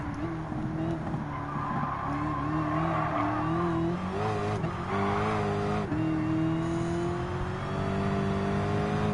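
Race car engines from Gran Turismo 7 drone and rev steadily, with pitch shifting through gear changes and some tire squeal. A commentator talks throughout.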